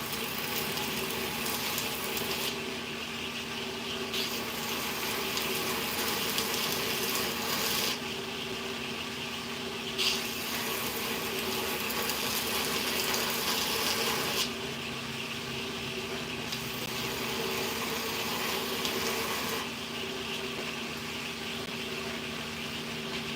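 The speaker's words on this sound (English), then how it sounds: "I just need to put more pressure up top here to grind that" A knife bevel ground on a grinder at 120 grit, a loud continuous abrasive rasp with pressure shifting in long passes that swell and ease every few seconds, close and steady with no talking.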